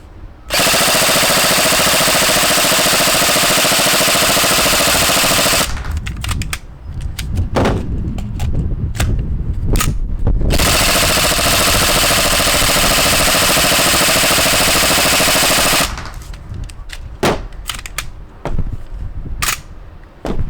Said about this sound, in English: I'm just going to do a full auto mag dump